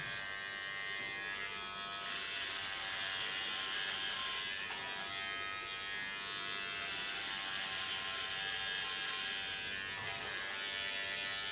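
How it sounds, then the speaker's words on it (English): A large hair clipper buzzes steadily and close by while cutting a straight line in a blunt bob, with faint snipping and comb noises over a continuous electric whir. "Go in with my large clipper."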